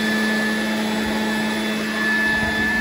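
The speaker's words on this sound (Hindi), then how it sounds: "आप अंदर वैक्यूम मार रहे हैं" Vacuum cleaner running inside a car during detailing, a steady high-pitched motor whine and airflow roar held without a break, close and loud.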